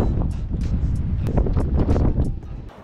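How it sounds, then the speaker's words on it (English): Wind gusts outdoors around a Blackstone griddle, a steady broadband roar buffeting the microphone throughout and easing slightly at the end. "just because the wind was rocking, moving in different directions"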